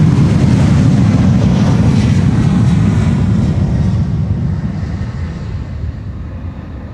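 KLM jet airliner taking off from runway 36L at Schiphol, a loud, deep engine roar close by at first that steadily recedes and fades as the aircraft climbs away.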